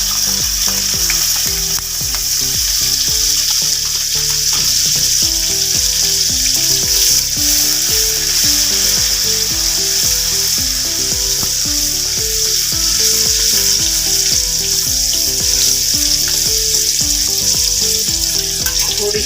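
Cut green chilies fry in hot oil with cumin and asafoetida, producing a loud, continuous close sizzle with a dense bright hiss and a constant crackle, and nobody talks throughout.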